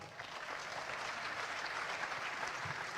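Audience at the 2019 Esports Awards clapping, a steady dense applause from a large crowd filling the room without a break.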